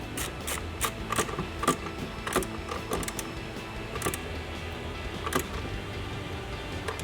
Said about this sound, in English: I'm going to take my 8mm socket and go ahead and finish off